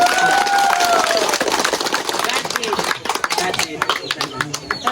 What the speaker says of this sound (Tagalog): Ato siyang palakpak.